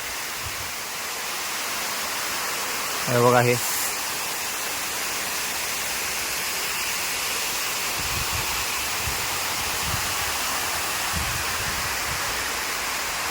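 Floodwater overflows from a waterlogged area beside houses, rushing in a steady roar like a small waterfall, while someone speaks briefly near the start.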